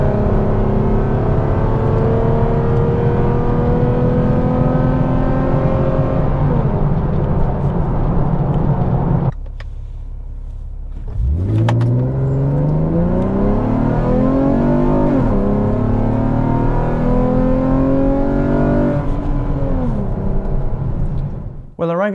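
A tuned fifth-generation Chevrolet Camaro pulls hard in sport mode after a Trifecta tune, its loud engine note climbing through gears with sweeping pitch rises, a brief lull midway, then surging again close to the cabin.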